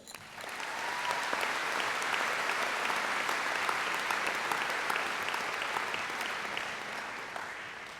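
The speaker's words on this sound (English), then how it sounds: "Let's get a round of applause for these people." A graduation crowd applauds educators and parents with sustained, dense clapping that swells in and holds steady for several seconds, spread wide across the room.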